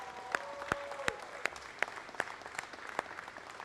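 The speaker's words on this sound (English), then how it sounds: "let's give our MTA heroes and Q a round of applause" Sparse, evenly spaced claps ring out at an outdoor MTA press conference held with the Cyclones baseball team, with single crisp hits repeating in a steady rhythm over faint background noise.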